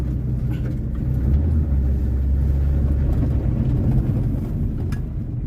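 Engine of a 1978 Honda Civic on the road, a steady low rumble and drone holding at an even, fairly loud level throughout, with no talking.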